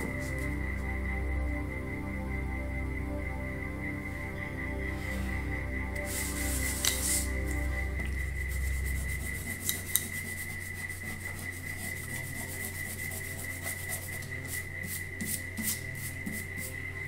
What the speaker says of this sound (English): we can just rub out the construction lines